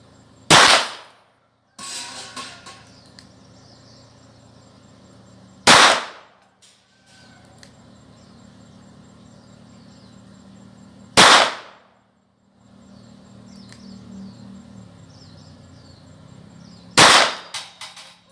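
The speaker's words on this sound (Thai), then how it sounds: "จะลองยิงหมายเลขห้านะครับเลขห้า ในเป้านะครับ ยิงไปที่เลขห้าผมจะลองทดสอบสักสิบนัดนะครับ" A Taurus model 856 .38 Special revolver fires four loud, sharp shots spaced several seconds apart, each a crisp crack with a short ringing tail, with faint handling sounds in between.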